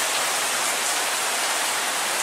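Steady heavy rain pours down outside during a thunderstorm, a dense even hiss that is loud and continuous throughout, with no voices or thunder breaking through.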